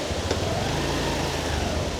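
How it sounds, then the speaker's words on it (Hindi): A car engine drones steadily at low pitch as the vehicle is driven into a parking area at Sahastradhara near Dehradun during the rainy season, a constant close rumble with no talk. "तो हम अपनी गाड़ी पार्क करेंगे यहाँ पे अंदर।"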